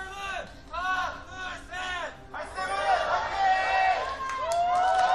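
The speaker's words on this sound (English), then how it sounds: "You hear the cheers from the crowd there." A stadium crowd cheers and shouts at Game 1 of the 2023 League of Legends World Championship, PSG Talon versus Movistar R7. Voices rise in waves, then swell into a louder, sustained roar that continues to the end.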